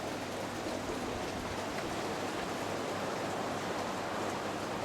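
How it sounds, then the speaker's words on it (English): Sea waves wash continuously against the rocks at the Banyan Tree Bintan island resort, a steady broadband hiss of surf with no distinct breaks and no voices. "I think the sound of the waves is nicer than the sound of the bubbles in that spa jacuzzi water."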